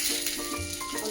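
Thalipeeth flatbread sizzling on a hot griddle, a steady hissing crackle that is close and fairly constant throughout the short moment.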